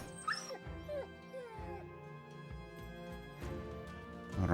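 A dog in the video game Battle Brothers yips and whimpers in short, pitched cries that rise and fall, fairly close, over quiet game ambience.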